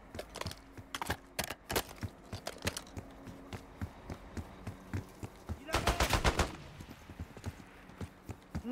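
Sharp gunshots crack in irregular bursts in Call of Duty: Black Ops 6, including a rapid fusillade near the end, fairly close over a quiet background.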